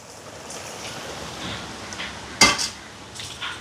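Boiled vegetables are mashed in a cooking pot, giving a soft, steady scraping and squishing with one sharp metallic clank of the utensil against the pot and a few lighter knocks after.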